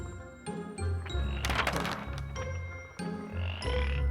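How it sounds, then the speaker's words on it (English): Frogs croak in a pond as a narration sound effect, several loud close croaks in uneven bursts with no voices heard. "finds a pond full of frogs"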